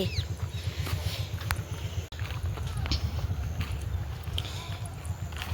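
Strong wind buffets the microphone in a continuous rough roar, with sharp gusts and knocks scattered throughout.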